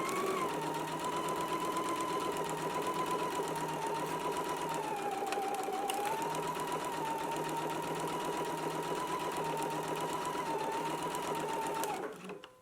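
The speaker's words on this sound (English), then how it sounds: "Let's go ahead and do our stitch now." Electric sewing machine stitching a seam for a McCall's M8354 garment, running continuously for about twelve seconds with a steady whirring hum and rapid needle clatter, then stopping abruptly at the end.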